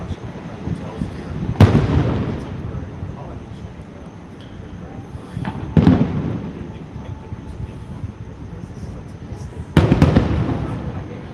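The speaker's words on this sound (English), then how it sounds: "It's cool to have the monorail in the front while the fireworks are going off." Fireworks burst over Disney World with the monorail passing in front, three loud booming bursts spaced several seconds apart, each trailing off into rumbling crackle over steady crowd murmur.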